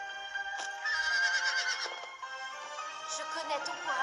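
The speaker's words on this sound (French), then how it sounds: "Hop, le petit cheval." A horse whinnies in the video game Zelda: Breath of the Wild, a bright, drawn-out neigh rising above steady game music and ambience, with a second shorter call near the end.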